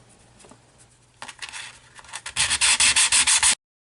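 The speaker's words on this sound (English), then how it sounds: "I'm moving on to 80 grit paper." Coarse 80-grit sandpaper rasps back and forth over metal on a Sears & Roebuck .410 single-shot shotgun, starting with light irregular strokes and building to loud, fast, rhythmic scrubbing before stopping abruptly.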